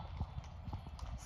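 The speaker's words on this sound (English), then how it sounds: "Silly little pony." A pony's hooves clip-clop in a steady, fairly quiet rhythm of several light knocks, with no talk over them.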